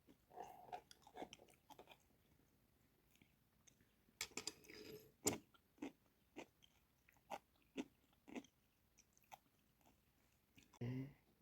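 Close, crunchy chewing of curried cucumber pickle, a series of crisp bites and crunches spaced irregularly over a quiet kitchen background.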